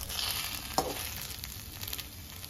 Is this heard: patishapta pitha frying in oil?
yes